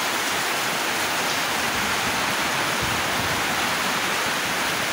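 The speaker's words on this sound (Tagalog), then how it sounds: "lakas ng ulan" Heavy rain pounding on a large wooden fishing boat, a loud, dense, unbroken hiss that holds at full strength throughout, with no voices.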